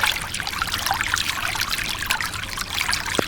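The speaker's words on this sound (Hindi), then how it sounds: "अरे ये पानी कहाँ से बह रहा है" Water pours steadily through a break in a field embankment, a continuous close trickling and gushing rush that holds at even loudness throughout with no talking.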